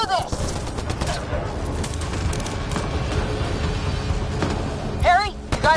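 Rapid bursts of gunfire from weapons in the Mass Effect Andromeda video game, loud and continuous throughout, with voices shouting over the shooting.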